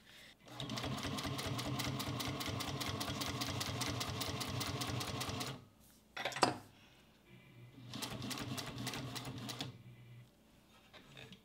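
A Juki 1541s industrial sewing machine top-stitches leather in two runs of rapid, steady needle chatter, the first about five seconds long and the second shorter, separated by a brief clunk and pause.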